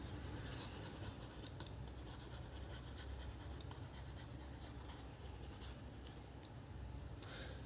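An XP-Pen Deco Mini 7 tablet stylus writing letters across the pad makes faint, quick scratchy strokes in short irregular runs, barely above a steady background hiss.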